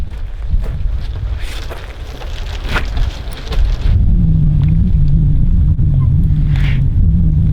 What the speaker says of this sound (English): It's very windy outside right now